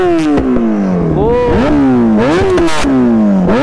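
Kawasaki ZX10R sport motorcycle engine revving hard, loud and close, with repeated throttle blips rising and falling in pitch over several seconds.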